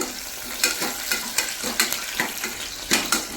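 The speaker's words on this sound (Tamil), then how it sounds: "இப்போ நல்லா இதை வதக்கிக்கலாங்க" Small onions, a sprig of curry leaves and a little garlic sizzle in a pan as a spoon stirs them, with regular scraping strokes over a steady fry, close up and without talk.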